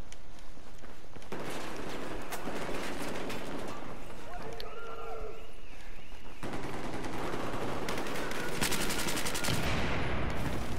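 Rapid automatic gunfire from the video game Battlefield 4, sustained bursts of shooting with dense crackling shots through most of the span, loud and close, with game noise underneath and some talk.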